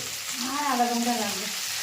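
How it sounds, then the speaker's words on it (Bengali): Cut pona fish frying in a pan of hot oil gives a steady, close sizzle that holds evenly for the whole moment, with a faint tonal hum beneath. "এদিকে মাছ ভাজছে"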